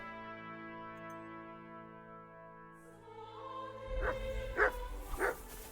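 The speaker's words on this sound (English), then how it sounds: "If you have the bark perk activated, you can command Mutt to bark." A dog in Kingdom Come: Deliverance II barks on command, three sharp barks close together near the end over sustained, quiet in-game music.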